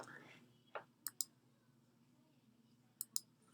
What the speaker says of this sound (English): Okay, I'm gonna click here.